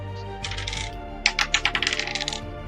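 Six-sided dice rolled during a tabletop role-playing game, a short scatter of light clicks and rattles tumbling to a stop on a table, close and fairly quiet.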